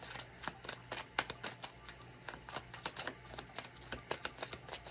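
Tarot cards being shuffled by hand, a rapid series of crisp riffling and slapping bursts repeated through the whole stretch, close and fairly quiet, with a faint steady hum behind.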